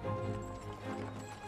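Heavy shire horses walk along a village road in Hook Norton, Oxfordshire, their hooves giving a steady clip-clop over a dense background of outdoor ambience.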